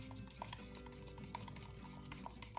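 Soft repeated scraping and light clinks of a utensil stirring a small batch of acrylic paint mixture in a container, steady and close, with no talking.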